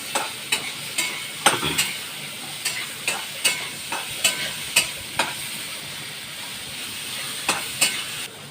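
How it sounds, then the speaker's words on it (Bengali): Pointed gourd and potato sautéing with turmeric, chili powder and salt for a fish curry, a steady sizzle broken by regular spatula scrapes and clacks against the pan, close and clear with no talking. "আর 1 চামচ হলুদের গুঁড়ো, অল্প একটু লঙ্কার গুঁড়ো দিয়ে একটু কষবো।"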